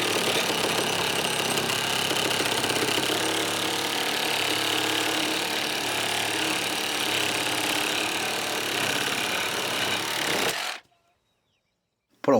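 A RIDGID GEN5X MEGAMax reciprocating saw on orbital action tears through wood for about ten seconds, loud, close and rasping with a steady rapid chatter, then cuts off abruptly into silence.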